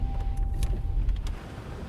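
Car cabin interior while driving, a low steady engine and road rumble with faint clicks and short rustles.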